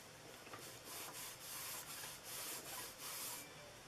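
An embossing buddy pad rubbed over cardstock at a craft table, a soft, close brushing swish repeated in even strokes about every half second, faint and with no voices.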